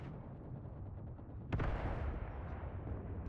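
Distant artillery and gunfire rumble in the World War II tank game Mius Front: a low, faint battle din with one sharper blast partway through, followed by rolling echoes.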